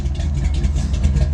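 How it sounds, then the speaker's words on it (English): A 1965 Dodge Coronet 500 pro street car with a 451 cubic inch wedge V8 and Flowmaster exhaust idles close by, a deep, steady lumpy rumble with a slight pulsing rhythm. "You can see the shifter shaking just from the engine idling, but it's got a really good sound"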